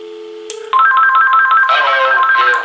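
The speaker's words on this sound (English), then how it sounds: "So that is the first ringtone" An AT&T EP5995 telephone gives a soft tone, then breaks into its first ringtone: a loud, bright electronic warble repeating rapidly for about two seconds, close and clear with no talk.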